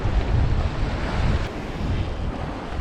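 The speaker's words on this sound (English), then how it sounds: "this wind's making it really tricky to fish super light" Gusty wind and ocean swell roar at the shore on a cod lure-fishing outing, loud continuous buffeting with a wash of surf that eases slightly partway through, no voices.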